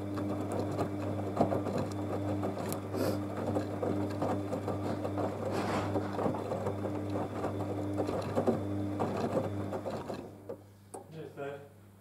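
Bosch Exxcel 8 VarioPerfect washing machine heating up, giving off a steady low mechanical hum with a constant tonal drone and light rattling, close and continuous before it quiets near the end, with a voice briefly heard.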